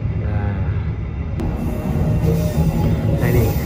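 Train wheels squealing steadily as a KA Serayu train rounds a curved mountain rail line near Cikadongdong station, a continuous loud grinding rumble with high-pitched screech throughout.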